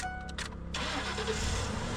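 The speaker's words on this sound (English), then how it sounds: "so right now the car should start" A 2008 Ford E-350 van with a 5.4 engine cranks briefly and then catches, going from a short starter whir to a steady, loud idle rumble that runs on with no voices.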